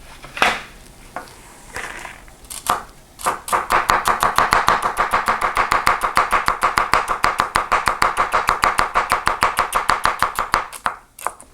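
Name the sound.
chopping celery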